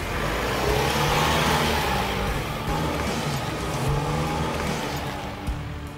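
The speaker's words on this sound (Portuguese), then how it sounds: "O carro passa pelo desafio sem bater no para-choque." A Nissan Frontier Pro 4X pickup with a 2.3 biturbo diesel engine climbs a steep off-road slope, its engine droning loud and steady under strain close by, with no talk.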